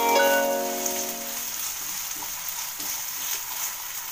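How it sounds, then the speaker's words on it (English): Potato cubes roast in a hot pan for a potato garlic fry, giving a close, continuous sizzle with soft stirring scrapes after a brief tonal ring at the start, with no voices. "Roast the potatoes for some time."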